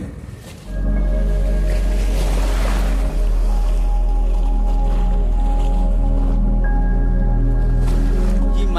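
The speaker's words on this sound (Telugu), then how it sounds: "ఇప్పుడే బోట్ వెళ్తుంది చూసారా, చాలా దగ్గర నుండి ఈ నదిముఖ ద్వారం గుండా ఇలా బోట్లు వెళ్తుంటాయి" A boat passes close by through a river mouth where river meets sea, a steady droning engine hum over a constant rush of water and surf that rises in after a quiet first moment.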